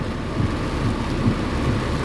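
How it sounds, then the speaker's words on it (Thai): Heavy rain pours steadily during a tropical storm on a Thai roadside where cars have pulled over, a dense unbroken roar with low rumbles of thunder rolling underneath, loud and close throughout. "คือฝนตกหนักไปต่อไม่ได้นะครับเนาะ"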